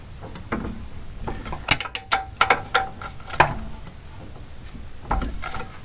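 A wrench tightening bolts on an aluminum driveshaft, a series of close metallic ratcheting clicks and clanks in short irregular bursts, with a pause before a final clunk.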